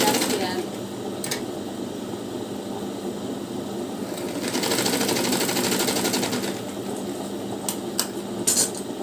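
A sewing machine stitches a blouse lining with a soft, continuous whirring hum that grows busier midway, while a person talks over it throughout.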